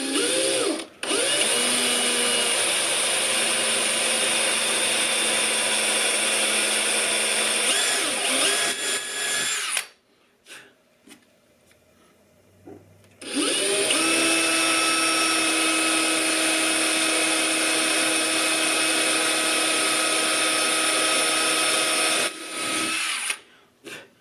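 A power drill reams pin holes in the hardwood of a 1938 D18 guitar, giving a steady whine that runs for about ten seconds. After a short quiet gap it drives again for another long, even stretch, close and loud.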